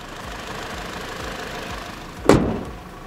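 A 2014 Toyota Harrier ZSU60 with the 3ZR 151-horsepower engine idles with a steady low rumble, then a sharp loud thump or knock breaks in near the end.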